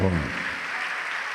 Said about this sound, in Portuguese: E vamos aplaudir o Senhor, Rei fiel.